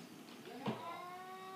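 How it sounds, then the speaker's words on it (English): An indoor cat growling, a drawn-out, wavering low yowl that holds steady and swells briefly in the middle, moderately close against a quiet room. "I hear a cat growling."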